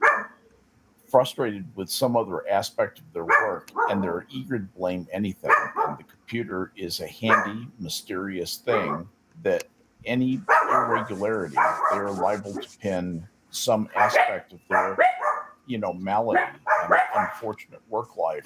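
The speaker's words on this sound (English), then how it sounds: "Sorry about the barking chorus in the background." A chorus of dogs barks intermittently in the background while a person talks continuously in the foreground.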